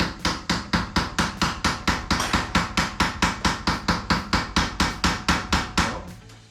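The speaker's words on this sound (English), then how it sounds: "you can hit this with a regular hammer" A regular hammer striking a part on a WW2 Jeep, about twenty loud ringing metallic blows in a steady, fast rhythm, each one decaying quickly before the next.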